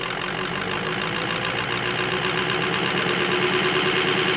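Ford Excursion with a 6.0 diesel engine running at high idle: a steady, loud, close mechanical drone with a rough knocking clatter, unchanging throughout and without speech.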